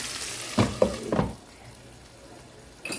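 Soy sauce chicken wings frying in a pan as sugar caramelizes: a few loud bursts of sizzling and spattering early on, then settling into a quieter, steady hiss.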